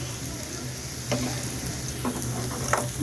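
Onion and green chili sizzling in hot oil for a thin mixed-vegetable khichuri, a continuous close frying hiss broken by a few sharp scrapes of stirring.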